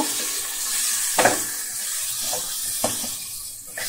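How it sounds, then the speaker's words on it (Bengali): Spices with turmeric powder and salt frying in a pan, a soft steady sizzle broken by a few spoon scrapes and clinks. "আর হলুদ গুঁড়ো দিয়ে দিলাম। তো ভালো করে দেখো মশলা কষিয়ে নেব।"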